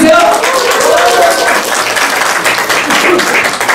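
An audience at a North Korean film screening in Jecheon breaks into applause and cheers, a loud, dense clatter of many hands that stays steady for several seconds with voices mixed in.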